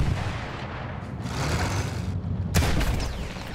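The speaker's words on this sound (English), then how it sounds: "Field gun close." A field gun firing close by in the Battlefield 1 war video game, heavy booming blasts over rumbling battle noise, with a sharp loud report about two and a half seconds in.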